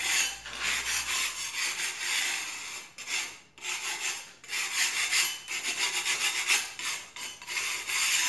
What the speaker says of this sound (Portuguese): Na verdade será toda a parede que você vai passar a espátula.